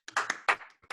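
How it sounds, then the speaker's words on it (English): A small group clapping for someone's parents during a podcast, a few brief close claps and taps, thin and short rather than a full ovation. "Round of applause for Dan's parents"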